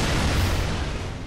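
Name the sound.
explosion in Bloodborne video game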